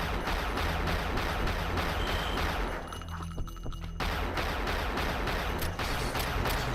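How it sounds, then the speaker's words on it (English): Grenades fire in the Unreal Return to Na Pali video game as a dense, loud burst of rapid explosive blasts. The barrage runs almost without pause, briefly easing in the middle before resuming at full strength. "I know I'm wasting grenades, but I'd really rather deal with him this way."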